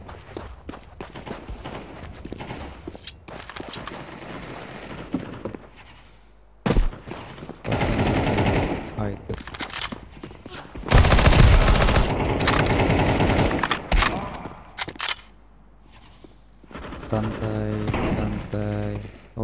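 Rapid automatic gunfire bursts and single shots crack loudly on Dust 2 in a Counter-Strike 2 deathmatch, coming in separate volleys with short quieter gaps, while a player talks between them.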